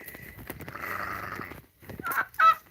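A farm goose or turkey named Darlene honks in a homestead garden. Loud, nasal calls sound close by, first as a sustained cluck-like run and then as sharper honks near the end.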